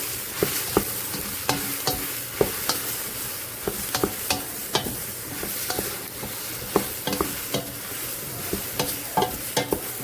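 Shiitake mushrooms cook down in a pan with a steady low sizzle, broken by frequent sharp scrapes and clicks of a utensil stirring them, close and with no voices.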